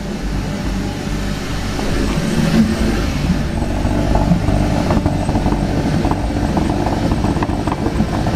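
A Kia Ceed GT engine misfiring as it is revved, a loud, rough and uneven roar that holds steady at close range for several seconds, with no talking.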